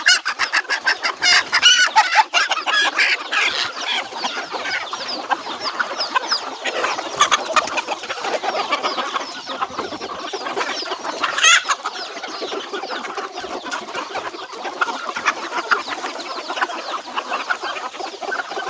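A flock of native country chickens clucks busily outdoors while eating spinach greens. Overlapping clucks and calls from several birds are heard nearby and fairly loud, with an occasional rooster-like crow, and no talk.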